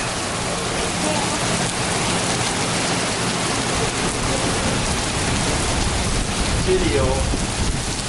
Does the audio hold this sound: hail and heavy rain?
yes